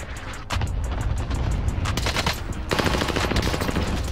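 Rapid automatic gunfire in Call of Duty Warzone on Rebirth Island, sustained loud bursts of shots with a few heavier single reports layered in, continuing nearly throughout.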